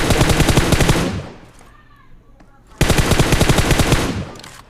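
Rapid automatic gunfire from the PUBG video game on the Sanhok map comes in two loud sustained bursts separated by a short quieter gap.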